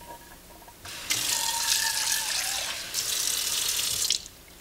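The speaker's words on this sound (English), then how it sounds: "Another thing that I do when I'm draining the rice, I put some cold water over it." Cold tap water runs steadily over cooked rice draining in a sink, a loud broadband rush lasting about three seconds with a brief dip midway, ending abruptly.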